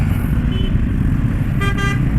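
Congested road traffic in a jam: a constant low rumble of engines and motorcycles fills the scene while a car horn toots twice near the end, fairly loud and close.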